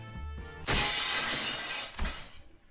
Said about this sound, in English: The chandelier crashed to the floor in full force, making a tremendous noise that thunders through the casino